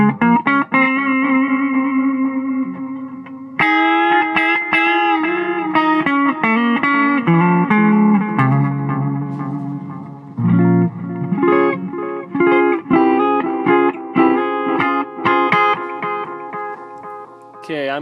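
Electric guitar played through an Ibanez DE7 delay/echo pedal picks a run of melodic notes whose echo repeats trail behind each phrase, loud and continuous with brief pauses between passages.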